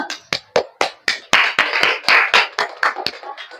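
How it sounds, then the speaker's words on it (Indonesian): A classroom of students claps for a group's answer during a lesson on community deliberation, with a dozen or so sharp, separate claps, close and fairly loud, building into a quick, dense burst of clapping. "Beri tepuk tangan dulu."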